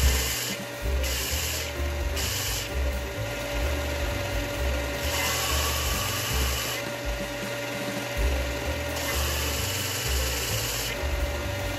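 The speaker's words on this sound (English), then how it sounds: "I used my belt sander to sand the rough edges" A continuous loud abrasive whir of a belt sander grinding the rough edges of a scrap wood 2x4, with a steady motor drone and slight shifts in pitch throughout, no talking.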